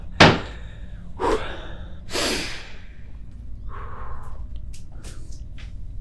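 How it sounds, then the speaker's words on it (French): Heavy breathing in the cold while someone explores an empty abandoned place, three loud close breath bursts near the start, then softer breaths and light scuffs. "Si vous m'entendez respirer fort."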